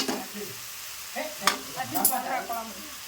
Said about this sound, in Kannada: ನಾನು ಈಗ ಟೊಮೆಟೊ ಹಣ್ಣು ಫ್ರೈ ಆಗಬೇಕು ಇದಕ್ಕೆ